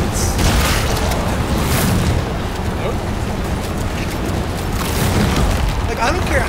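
Shotgun blasts in The Callisto Protocol during a fight with a two-headed brute, heavy booming shots over a dense, continuous roar of game combat noise.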